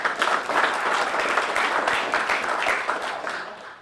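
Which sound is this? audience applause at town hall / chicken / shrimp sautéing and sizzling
audience applause at town hall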